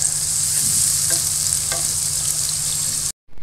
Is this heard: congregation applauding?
no